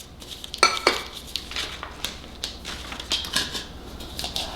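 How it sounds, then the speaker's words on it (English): Half a diced onion tossed into a cooking pan, giving a quick scatter of clattering, clinking hits followed by lighter rustles and taps against the pan, fairly close and alone. "We are going to throw in about a half an onion diced."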